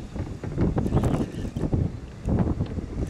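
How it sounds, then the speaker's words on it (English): Gusty wind buffets close against the microphone, a steady rough rumble rising and falling in waves throughout. "It's super windy right now."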